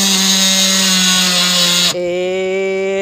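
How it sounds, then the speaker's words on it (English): An oscillating multi-tool cuts on a boat during an autopilot installation, a loud steady high-pitched whine with strong harmonics that shifts in pitch partway through as the load changes, running continuously and alone. "So Bev's going to get the multi-tool out, aren't you, Bev?"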